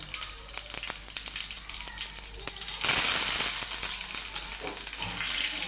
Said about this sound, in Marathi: चला, आपण टाकणार आहे पहिली मोहरी आणि जिरे आणि कढीपत्ता.